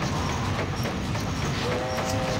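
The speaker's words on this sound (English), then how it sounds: "he got run over by a train" A ghost train rumbles past in the Sonic Adventure 2 Battle video game, a loud, continuous mechanical roar with a faint tonal whine near the end and no voices.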